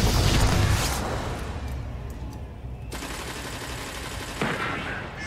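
Bursts of rapid gunfire crackle loudly in the video game Destiny 2, with a heavy volley at the start and scattered shots and sharp cracks following.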